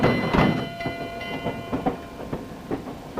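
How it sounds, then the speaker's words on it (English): An express train sound effect from a radio drama rumbles with a rhythmic clickety-clack, fairly quiet and steady throughout, with no voices over it. "sounds like the 10:15 express train downtown"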